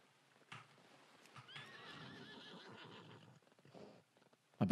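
A horse in the video game World of Warcraft whinnies loudly with a long neigh, surrounded by faint hoof clip-clops and a sharp thud at the end, heard alone without talk.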